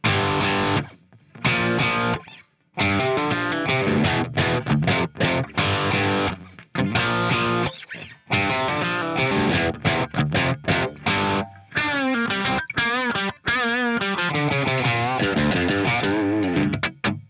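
Electric guitar through a Plexi amp model with nothing added, a crunchy, overdriven vintage tone, playing loud chords and riffs with brief gaps of silence between phrases.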